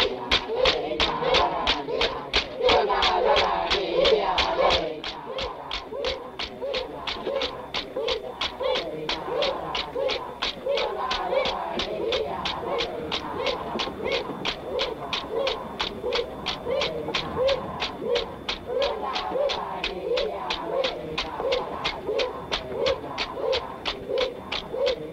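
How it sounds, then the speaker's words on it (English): Cockatoos call in a repeated rhythmic chorus, harsh cries pulsing steadily at moderate distance over a low background, slightly louder in the first few seconds. "These are cockatoos."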